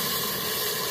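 Spices for a tadka temper in hot oil in a pan during village-style home cooking, giving a loud, steady, broadband sizzling hiss that runs without break.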